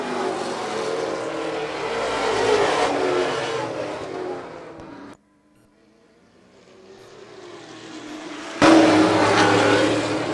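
Pro stock race cars roar past on a short oval track heading for the checkered flag, a loud engine surge that fades briefly to near silence before another car bursts in close.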